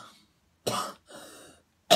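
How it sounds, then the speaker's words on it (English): A person with irritated sinuses coughs and clears their throat in a few separate harsh bursts, close and fairly loud, with silent gaps between them. "you're going to get all my coughing today"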